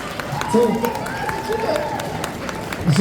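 An audience claps and cheers at a cosplay contest awards ceremony, with a continuous, fairly loud wash of applause and scattered sharp claps beneath people talking and shouting nearby.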